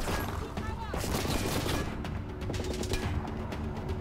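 A gunfight in Splinter Cell: Blacklist on PC rattles with rapid continuous automatic gunfire and bursts, dense and sustained throughout, with a faint voice present.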